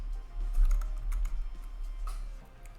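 Quick, light keystrokes on a computer keyboard type a short search term. A brief, irregular burst of clicks sounds close up in a quiet room.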